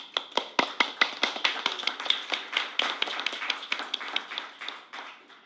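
A school audience at a Board of Education meeting applauds its sports teams, basketball, wrestling and soccer. Dense, steady clapping from many hands, with sharp individual claps standing out, goes on for several seconds without speech.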